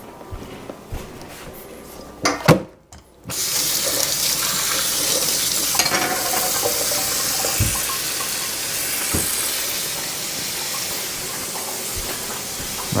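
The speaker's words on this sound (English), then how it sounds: "And we'll put the water on this now to soak it off." Tap water runs into a cooking pot to soak it clean, a few clanks and splashes first, then a steady loud gushing stream that continues to the end.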